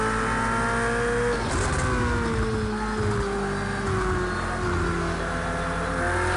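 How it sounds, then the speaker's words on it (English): A high-pitched Ferrari racing car engine screams steadily with gear-shift changes in pitch, loud and continuous in Project Cars 2 at Donington. "how nice do you think this Ferrari sounds?"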